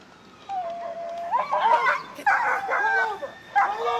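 Police dog barking, yipping and whining in a tense street arrest, bursts of sharp high yelps and whimpers at close range over a quiet background.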